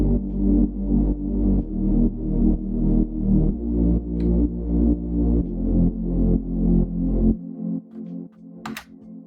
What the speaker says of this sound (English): Now for bass, we're just going to play the notes that are in the name of each chord.